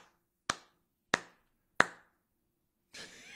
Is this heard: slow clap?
yes